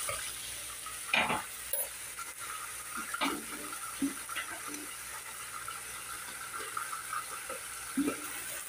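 Lentils and onion sizzling steadily in a pan as water is poured in, a continuous frying hiss broken by a few louder splashes and stirring scrapes, close and fairly loud.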